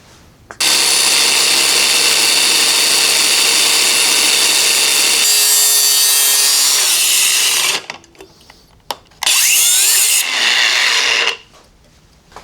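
A power tool cuts through a metal part of a Mazda 323 GTX rallycross car, a loud continuous grinding whine lasting several seconds, dropping in pitch as the cut ends, then a second short burst after a pause.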